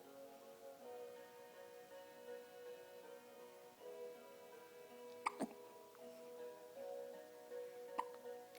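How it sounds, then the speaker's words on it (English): A person's hiccups, two or three short sharp catches heard faintly over a quiet background with a low tonal hum, spaced a few seconds apart. "Hiccups don't last forever."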